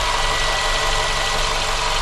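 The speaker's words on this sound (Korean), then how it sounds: "조용한 아이들링 보이고요." A new Renault QM6 SUV engine idles steadily and quietly, a smooth continuous hum with a faint mechanical rumble, close and unvarying, with no talking.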